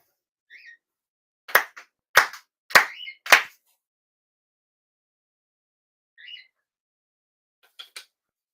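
Sharp ritual hand claps at a Shinto shrine service, four loud claps spaced about half a second apart, set among soft faint bird-like chirps and otherwise quiet surroundings.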